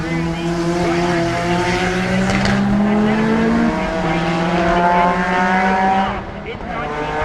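Rally cars racing round the Lydden Hill circuit toward the Devil's Elbow, loud engines revving with rising and falling pitch as they accelerate and shift, close and sustained, with a commentator talking over them.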